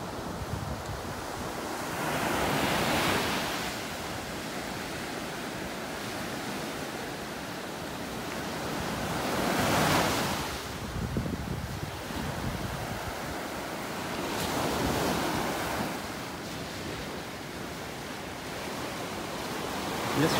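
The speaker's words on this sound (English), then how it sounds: "Take you down by the water again while we're waiting. Let you listen to those waves." Ocean waves roll onto the beach at North Naples, Florida, in slow swells of surf every several seconds, with constant wash and wind noise and no voices.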